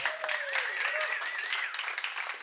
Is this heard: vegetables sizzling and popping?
no